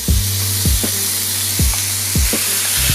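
Bacon frying in a pan over medium-high heat, a full one-pound package, gives a loud, steady sizzle and hiss, with a few soft clinks and scrapes against the pan at intervals and no talking.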